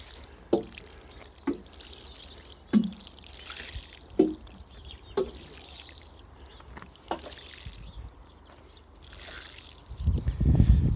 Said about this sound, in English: I'll give them a bit of a watering in